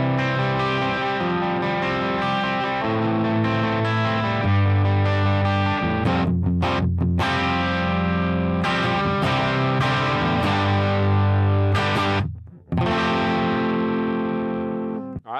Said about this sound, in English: now we're going to hear both amps and both cabs in stereo